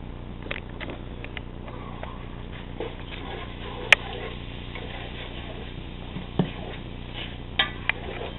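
A spoon stirs aloo gobi in a metal pot, giving soft scraping and occasional sharp clinks against the side over a low steady background.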